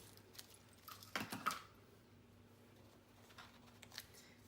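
Scissors snip through cotton twine in a quick cluster of small, faint, close cuts during a craft project, then quiet rustling.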